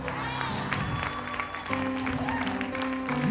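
A church congregation applauds during a Sunday sermon, steady clapping that runs the whole time beneath sustained organ-like musical tones.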